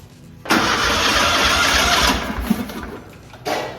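A turbine engine in a custom Ford F100 truck cranks over, a loud steady whirring hiss that starts abruptly, holds for about three seconds with slight surges, then cuts off sharply, close and alone.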